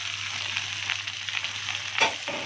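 Green peppers added to browned onions sizzle steadily in a frying pan, a soft continuous crackle with a brief stir-like rustle near the end, no voices.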